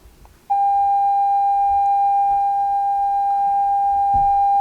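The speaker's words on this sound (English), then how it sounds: "You can just play a 30-second audio to hear the speaker." A steady, pure test tone comes from the loudspeaker of a Xiaomi Redmi Note 8 phone. It starts abruptly after a brief quiet moment and holds at an even level for several seconds, clear and close.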